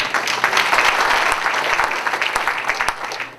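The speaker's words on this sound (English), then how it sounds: "Warm round of applause, Aaron Patzer." An audience applauds as a speaker is welcomed onto a stage at a startup talk. Close, lively clapping swells and then thins out with scattered claps near the end.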